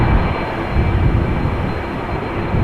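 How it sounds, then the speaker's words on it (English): General Electric CF6 jet engines spool up at Amsterdam Schiphol Airport, a steady broadband roar with a faint high whine, heard from a distance without talk. "Sounds like I'm hearing CF6s being started."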